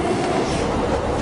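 A subway train runs on its rails with a dense, continuous rumbling roar and faint clatter, close and loud throughout a short stretch.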